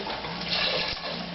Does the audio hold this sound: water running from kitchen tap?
yes